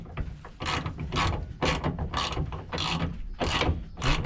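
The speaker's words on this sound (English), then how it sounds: "Use the longer socket if you need to." A socket wrench ratchets on door hinge pin hardware of a Ford Escort II, a close, loud, rapid series of clicking pawl strokes in about seven regular bursts, with no talk.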